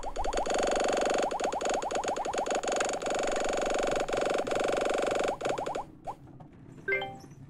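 Bouncing ball sounds from the video game Balls: a dense, steady stream of rapid bright clicks and plinks for several seconds, then thinning to a few scattered boings and pops, with no speech.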